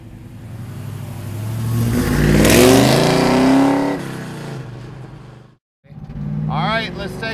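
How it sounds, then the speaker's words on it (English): Exhaust note of a 1973 Chevrolet Camaro hot rod, revving up loudly to a peak and then falling away, a brief gap, then the engine rises again near the mic. "I love the exhaust system. Listen to this baby, she just sounds so awesome."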